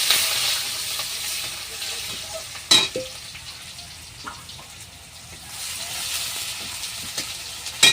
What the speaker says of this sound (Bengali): এই যে পেঁয়াজ আর তেজপাতাটা তেলে দিয়ে দিচ্ছি